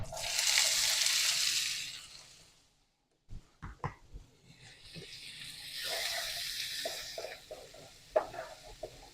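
Vegetables hit hot bacon grease in a pan on medium-high heat, a soft steady sizzle that fades, pauses, then returns with clinks and stirring knocks before the frying hiss resumes, quiet throughout.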